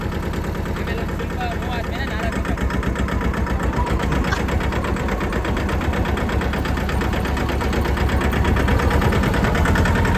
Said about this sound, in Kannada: ನಾವು ಒಂದು ಮಹೇಂದ್ರದು ಚಿಕ್ಕ ಟ್ರ್ಯಾಕ್ಟರ್ ಓಡಿಸ್ತಾ ಇದೀವಿ